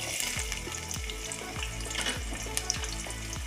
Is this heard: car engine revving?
no